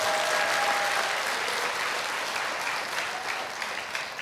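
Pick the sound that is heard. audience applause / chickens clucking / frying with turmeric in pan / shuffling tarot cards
audience applause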